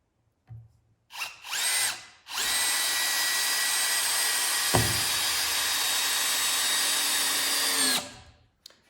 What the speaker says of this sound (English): So we'll do some of the cabinet and trim head screws first.